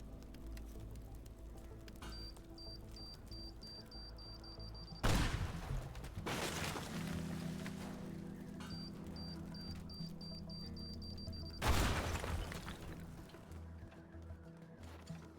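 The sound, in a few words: rocket firing and exploding in the video game Unepic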